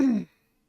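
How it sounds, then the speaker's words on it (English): A single short throat-clearing sound, close and fairly loud, lasting about a quarter second and then leaving silence. "Sorry, I keep clearing my throat."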